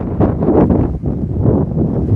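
Gusty wind blowing outdoors along a dirt road near a cemetery, buffeting the microphone in a loud, continuous low roar with slight surges and one brief lull, no voices.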